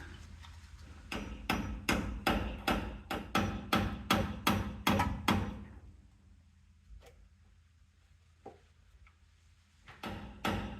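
A hammer strikes a screwdriver in a quick run of about a dozen sharp metallic taps, driving out a transfer case seal on a 1994 Chevy K1500, followed by quiet and a few scattered knocks.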